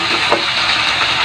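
Water poured into a hot pan of grilling pork belly gives a steady loud gush and sizzle with no break, close up throughout.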